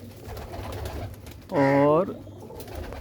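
A large pigeon gives a single loud, close coo lasting about half a second, with someone speaking briefly around it.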